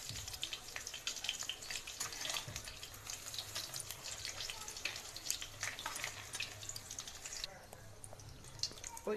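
Paneer frying in hot oil gives a steady, faint hiss of sizzling that runs the whole time over a low background hum.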